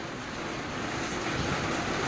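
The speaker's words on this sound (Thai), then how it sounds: "มันดังแน่ฝนมันตก" Heavy rain pours down steadily as a dense, continuous hiss that stays loud and even throughout, with no voices.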